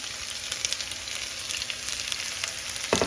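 Sliced garlic and ginger fry in hot oil for a lemon pickle, a steady close sizzle with crackly pops that flares louder near the end, with no talking.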